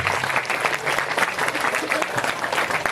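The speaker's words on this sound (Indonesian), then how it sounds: "Beri tepuk tangan untuk Al-Ustadz kita." A school audience at an Isra Mi'raj commemoration gives a welcoming round of applause for a visiting ustadz, loud and dense sustained clapping from many hands with crowd voices mixed in.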